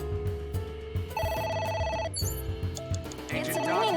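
A phone rings in the video game AI: The Somnium Files, a repeating electronic ring tone mixed with game music and chimes, with spoken dialogue under it.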